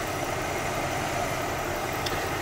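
A 1996 Buick Century's 3.1-litre V6 with a cylinder-one misfire and ignition and injector trouble idles steadily, a continuous low engine hum with broadband hiss throughout and no speech.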